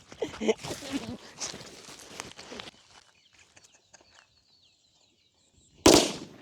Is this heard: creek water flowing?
no